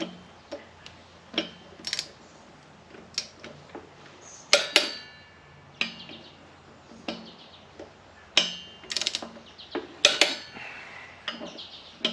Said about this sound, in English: I've got my torque wrench set at 21 pounds, so I'm just going to go around and check them in a star pattern